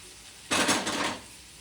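Okra (bhindi) sabzi cooking in a pan just after tempering: a short burst of metallic pan-and-utensil clatter with light sizzling, about half a second long, close by, then fading back to quiet room tone.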